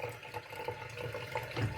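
Water runs steadily from a Minerva Electronic 4-in-1 tap, a continuous close stream of splashing flow lasting a couple of seconds with no talk.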